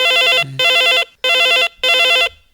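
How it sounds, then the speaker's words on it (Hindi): A loud electronic phone ringtone sounds in three repeating bursts separated by short silences, close and clear. "ये बीच में संगवारी के फोन है।"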